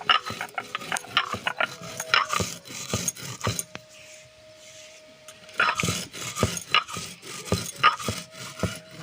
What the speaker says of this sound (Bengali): ভাজা মশলাটা বেটে নেব।